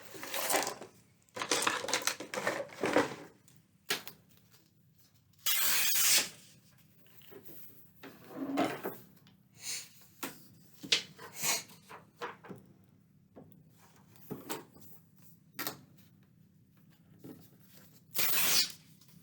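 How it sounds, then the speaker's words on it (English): Paper is torn by hand for a Halloween-themed art journal: a series of close, irregular rips and crinkles of varying length separated by quiet gaps, with no talking. "let's start ripping this"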